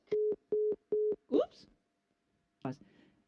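A telephone line after a call hangs up gives three short, even tone beeps at steady intervals, followed by a brief voice and then near silence.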